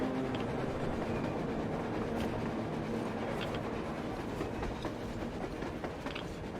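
A train rumbles steadily past on the surface in the video game Metro Exodus, a dense, continuous roar and faint rhythmic clatter, loud and close throughout, with no voices.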